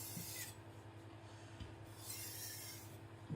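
A Tojiro white steel (shirogami) nakiri knife being sharpened with a micro bevel, soft steady rasping strokes on a stone, quiet and close, with no talking.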